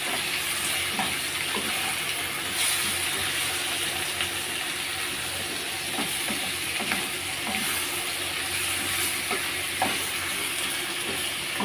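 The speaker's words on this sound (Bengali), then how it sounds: "আমি একটু ভালো করে নেড়ে নেব।" Pointed gourd and shrimp fry in a pan with a constant loud sizzle and hiss, broken by soft scraping and clacks from stirring.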